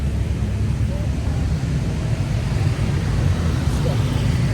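Busy roadside traffic in Java with no traffic lights: a steady, loud wash of engine and tire rumble from passing vehicles, continuous and close throughout.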